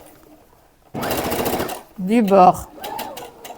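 Sewing machine running a line of stitching close to the fabric edge on a Japanese-sleeve top, a steady buzzing stretch alone, then someone speaks over it and briefly after it stops.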